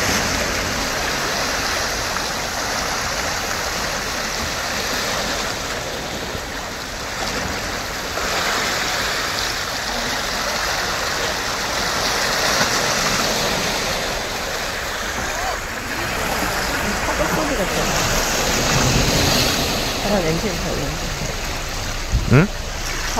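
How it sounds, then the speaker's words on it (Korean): Sea waves wash steadily onto the beach at Seonyudo in Gunsan on the West Sea at sunset, a continuous broadband rush of surf with gentle swells, and faint voices talk underneath. "바다 냄새도 별론데 파도 소리가 좋아."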